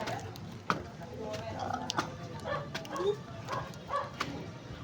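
A dog at a house barks and whimpers in short yips and whines scattered through the clip, while people talk over it.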